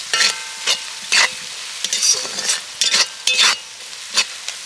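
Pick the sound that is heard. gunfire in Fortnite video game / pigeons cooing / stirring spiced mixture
stirring spiced mixture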